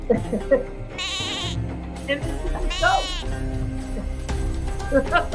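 A goat bleating sound effect plays twice, each a wavering, nasal bleat over a second long, dropped in over ongoing talk and background noise.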